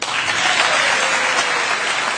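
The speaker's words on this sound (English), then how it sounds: "The sound you hear there is of Republicans clapping and the Democrats sitting on their hands" Republican legislators in the Maryland legislative chamber burst into loud, dense applause, a sustained wash of many hands clapping at once for a couple of seconds with no talk over it.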